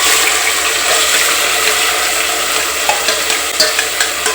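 Spices crackling and frying in hot oil in a home kitchen pan, with a steady broadband sizzle and occasional sharp pops and stirring scrapes, close and continuous throughout.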